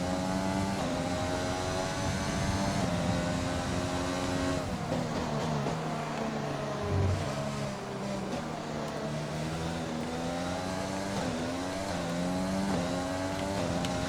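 An F1 race car engine in a video game at Zandvoort screams through gear changes, a continuous loud high-revving whine rising and falling as the car accelerates and brakes, running alone without talk.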